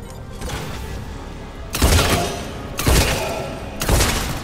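Three heavy shotgun blasts from Mass Effect 3 boom out about a second apart, each a loud broadband thud with a short decaying tail, over a steady bed of game ambience.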